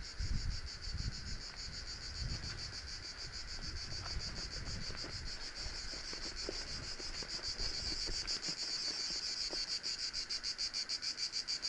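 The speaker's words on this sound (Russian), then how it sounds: "Поют цикады." Cicadas sing in the mountains above the sea, a loud, pulsing high chorus that pulses steadily throughout, with light wind rumble underneath and no talk.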